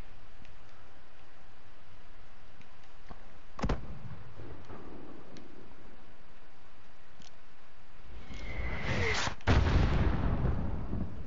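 Gunfire in Call of Duty Modern Warfare on the Highway of Death level: a few sharp isolated shots over a low rumbling background, with a heavier burst of blasts near the end and occasional voices.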